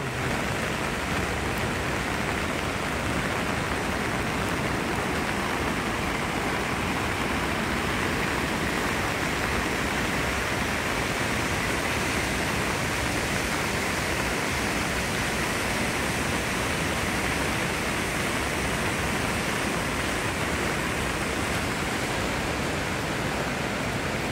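Heavy rain and a flowing river in Neelum Valley make a loud, dense, unbroken hiss of water that stays steady the whole time, with no voices.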